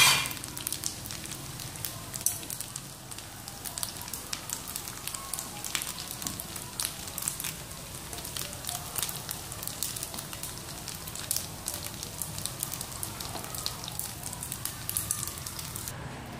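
Pork spring rolls (nem rán) frying steadily in hot oil, with a dense, continuous crackling sizzle and fine popping that lasts the whole stretch and has no talk over it.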